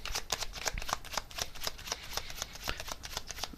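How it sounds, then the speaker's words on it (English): A deck of tarot cards is shuffled close up, with rapid riffling flutters repeating steadily and no talk. "I'm just going to get one more tarot card here on this."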